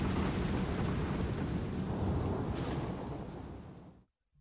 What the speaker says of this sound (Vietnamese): Cùng lúc ấy mưa chút xuống, sấm chớp ầm ầm như một điểm báo xui xẻo.